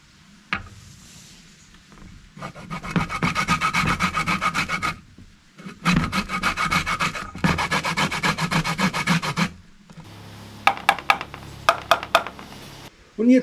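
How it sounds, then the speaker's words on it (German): Lemon zest grated by hand on a grater while preparing a Spanish cured pork loin: close, rapid rasping strokes in several long bursts separated by short pauses, ending with a few sharp clicks and taps. "Und jetzt gebe ich noch die geriebene Zitronenschale mit hinein"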